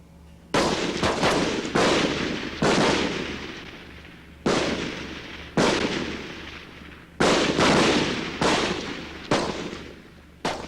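Gunfire at pop-up targets during Royal Australian Navy weapons training, about ten sharp loud shots in irregular groups, each cracking out and ringing off with a long echoing tail over a steady low hum.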